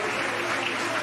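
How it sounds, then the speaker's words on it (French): Dense, continuous applause from a crowd at a French political event, loud and steady throughout without pause. "Il l'applaudit."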